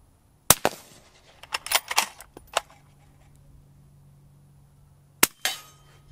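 Suppressed .308 sniper rifle shots, supersonic and subsonic loads, strike a steel plate about 60 yards away: sharp cracks, each followed by a short metallic ring, come in a scattered cluster and then a later pair, with quiet gaps between them.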